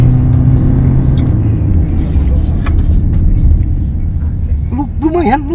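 Toyota Prius HEV 2024 hybrid, 1800 variant, accelerating from a standstill with a steady, loud engine and road rumble that holds throughout, while a voice talks over it near the end.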